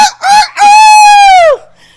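A person's voice imitates a rooster crowing, loud and close: two short clipped notes lead into one long, drawn-out crow that falls away at the end.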